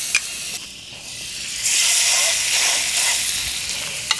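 Pork tenderloin sears in a hot skillet, a bright steady sizzle that swells louder partway through and holds, with a couple of sharp clicks at the start and end and no voices.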